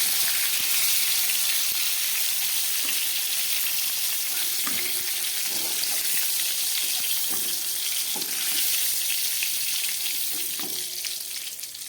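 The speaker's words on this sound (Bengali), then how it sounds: "ফুলকপিটাকে নুন হলুদ দিয়ে খুব ভালো করে ভেজে নিলাম" Cauliflower pieces fry in hot oil with salt and turmeric, giving a continuous, loud sizzle with a few soft stirring knocks scattered through it.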